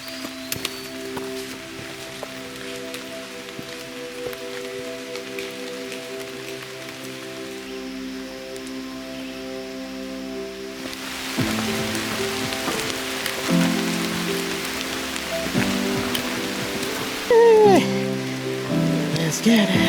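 Steady rain falling in a Shenandoah forest, a dense continuous patter on leaves and surfaces, close and even throughout with faint background tones and no speech.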